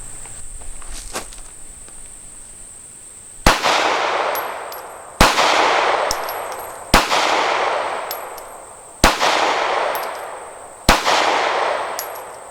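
A Kahr PM9 pistol fires at a target outdoors: five loud, sharp shots, spaced a couple of seconds apart, each followed by a ringing decay, over a constant high insect-like hum with no talking.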